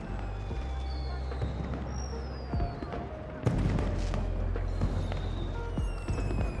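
Fireworks at a party in the video game Beyond a Steel Sky, a run of booms and crackles with high whistling streaks over a low steady hum, with a voice talking over them.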